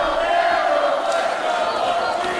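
A packed Brooklyn arena crowd at a live intergender wrestling show roars and chants without pause, a dense, loud wall of cheering voices.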